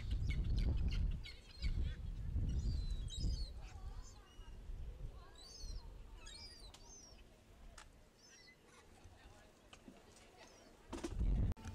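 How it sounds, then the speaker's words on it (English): Wild seagulls calling by the waterfront: scattered high squawks and cries, some near and some farther off, heard over wind rumble and outdoor noise, with people talking in between. "We are now approaching wild seagulls."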